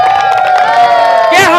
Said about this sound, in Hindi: भाई जोरदार अपने पूर्वजों के लिए ताली मारो